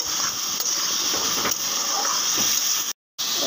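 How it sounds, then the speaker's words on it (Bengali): Vegetable stalks sizzle and fry in a pan after potatoes are taken out, a steady loud hiss of hot oil running throughout, with a brief cut of silence near the end. "আলুটা উঠিয়ে এবার ডাঁটাটা ভেজে নেব।"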